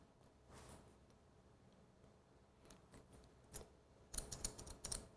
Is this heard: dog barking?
no